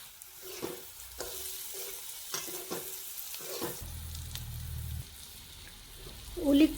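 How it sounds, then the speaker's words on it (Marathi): Onion frying with turmeric and salt in a pan for spicy vermicelli, giving a steady close sizzle with brief stirring clinks and a louder stir near the end. "कांदा आपण चांगला फ्राय करून घेऊ."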